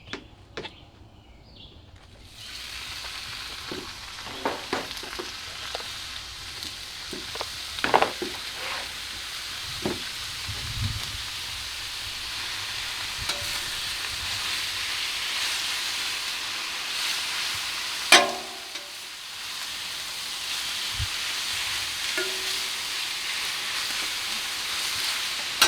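Thin sliced ribeye sizzling on a Nexgrill two-burner portable propane griddle, a steady broad hiss building over time with occasional scraping and clinking of a spatula, close and without talking.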